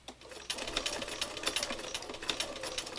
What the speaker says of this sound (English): I'm going to stitch over a little bit of the stitching here.